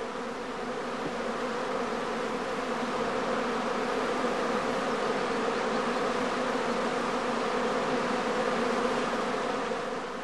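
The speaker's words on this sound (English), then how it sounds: "The experienced eye of the beekeeper can detect the first signs of swarming even at some distance" Honeybee colony humming at the hive's flight entrance in warm weather just before swarming, a dense, steady buzz of many bees that stays loud and even the whole time, with no voices.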